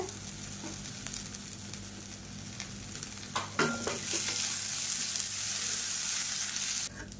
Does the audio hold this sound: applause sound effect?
no